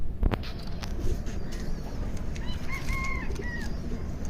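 Pigeons kept at a pigeon keeper's home coo softly in the background, with a few brief taps and rustles and some chirping bird calls over a steady low ambience.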